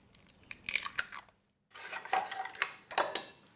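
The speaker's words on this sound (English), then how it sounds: "So I just crack them at the side" Eggs crack against the side of a bowl in a kitchen, a few sharp taps and crunchy shell breaks in two bursts with a short silent gap between, close and without talk.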